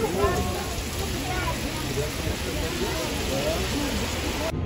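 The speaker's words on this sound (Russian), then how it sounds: "в Дубае пошел дождь" Rain falling in Dubai, a steady, dense hiss of drops on surfaces that stays even and fairly loud throughout, with no distinct pauses.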